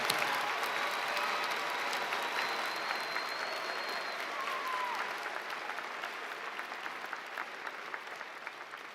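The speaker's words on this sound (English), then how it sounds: "let's give everyone a big round of applause." An audience at a graduation ceremony claps for the graduates in a dense, sustained round of applause that slowly thins toward the end, with faint voices mixed into the crowd.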